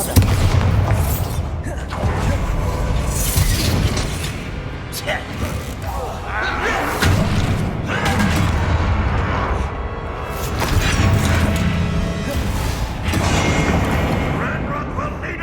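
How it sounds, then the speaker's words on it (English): Repeated Bombarda blasting spells in Hogwarts Legacy at a goblin outpost, a series of loud booming explosions that swell and fade over a steady roar of battle noise and background game sound. "Bombarda!"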